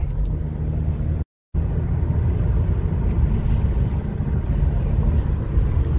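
A Jeep Renegade with a ZF nine-speed automatic cruises at steady throttle, its low engine and road rumble droning evenly with wind buffeting, broken by one brief dropout.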